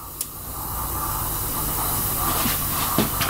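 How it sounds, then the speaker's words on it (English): A Bialetti Moka Express aluminium one-cup coffee pot on a stove gives off a steady, fairly loud sizzling hiss that builds slightly and carries on throughout, with a couple of faint clicks. "And now I can hear a good sizzling."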